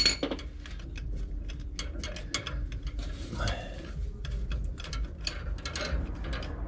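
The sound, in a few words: extracting transmission bolts on a 1977 Ford F-250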